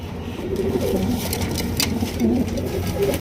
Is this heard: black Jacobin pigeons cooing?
yes